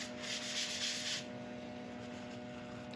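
A cloth rubs against a spinning wood burl on a lathe, a broad hissing friction for about a second before easing off, over the steady motor hum.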